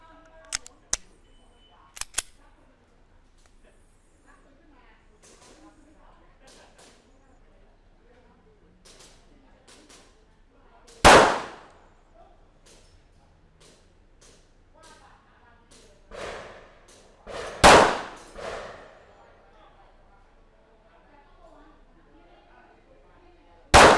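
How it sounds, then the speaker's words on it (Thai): A Smith & Wesson M&P Shield compact pistol fires domestically made practice rounds at a standard target about 10 meters away. Sharp, widely spaced reports ring out, two of them loud with short decaying tails, among fainter clicks and light speech. "เดี๋ยวเรามาลองยิงกันดูนะครับ"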